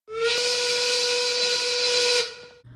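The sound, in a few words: steam work whistle blowing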